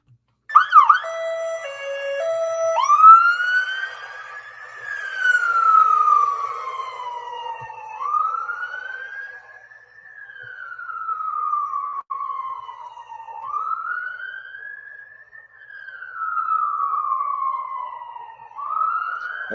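Emergency vehicle sirens wail through London during large fires in a record-breaking heat wave, the tone sweeping up and down in long repeated cycles, loud and fairly close with no talking.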